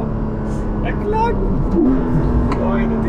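The 4.0 engine of a Porsche 718 Cayman GTS in python green hums steadily and low beneath someone talking excitedly over it, with a brief swell in the middle.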